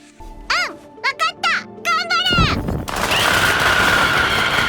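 A pile of firecrackers bursts into a dense, continuous crackling roar in an anime scene, following some high, swooping voiced cries and squeaky sounds; the popping is loud and close and fills the rest of the stretch.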